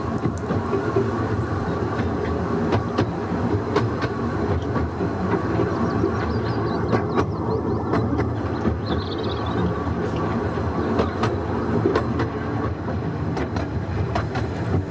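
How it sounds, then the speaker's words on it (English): The La'al Ratty heritage railway train runs past, its wheels clattering steadily over the rails for a sustained, loud passage with continuous rumble and rhythmic clicks. "we pass the first coastbound train of the day"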